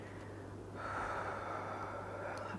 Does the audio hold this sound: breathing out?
yes